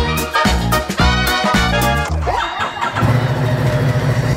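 A motorbike engine starts nearby with a few choppy pulses, then settles into a steady, loud low idle rumble.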